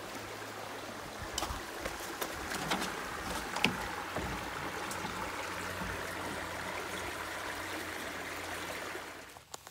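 Water from a stream or brook pours and splashes steadily as a container fills, a continuous close trickling wash with a few sharper splashes along the way, alone without talk.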